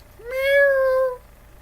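A person's voice imitates a cat meowing, giving a single drawn-out meow of about a second, close and fairly loud, with no other talk.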